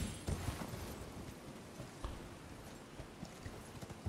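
Horse hooves clip-clop steadily in the video game Elden Ring, a continuous rhythmic trot of fairly loud thuds with no talking over it.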